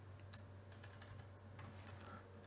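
Fast typing on a computer keyboard while coding an MQTT client connection, a steady run of light clicking keystrokes close by over a low constant hum.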